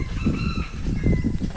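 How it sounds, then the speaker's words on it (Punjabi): A chicken clucks and calls loudly up close, a short run of throaty bird sounds. "ਕੋਈ ਪੰਛੀ ਬੋਲਦਾ ਪਿਆ ਇੱਧਰ"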